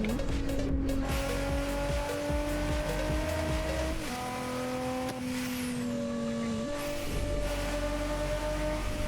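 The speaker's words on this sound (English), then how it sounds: "You definitely have that VQ sound for sure, but this car is fast." Car with a Nissan VQ engine in the No Hesi driving game, a sustained engine drone rising steadily in pitch with clear gear shifts and some tire noise, loud and continuous throughout.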